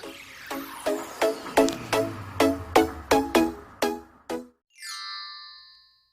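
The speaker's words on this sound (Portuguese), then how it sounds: "fica com a vinheta" Short channel intro jingle on a nail-care channel: a run of about ten bright, evenly spaced plucked or chimed notes that speed up slightly, then a sustained shimmering synth tone that fades out. Clear and alone, with no talk.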